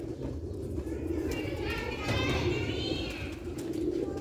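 Silver pigeons kept for breeding and sale, soft cooing from birds nearby under a busy background with faint voices around.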